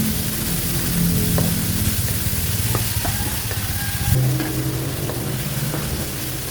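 Ground pork fries in a pan with sautéed onion and garlic, producing a close, continuous hissing sizzle with light crackles and occasional stirring, no voices heard.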